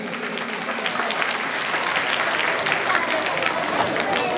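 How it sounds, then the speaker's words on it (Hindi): Loud, dense applause from an audience at a Hindu gathering at a temple in Ghaziabad, sustained without a break as many people clap together. "एक बार जोरदार तालियां बजाएंगे"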